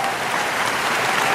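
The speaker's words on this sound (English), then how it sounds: "Let's give a claps to that." An audience applauds during a hip-hop interview podcast, a dense, steady wash of clapping that stays loud and even throughout, with no voices over it.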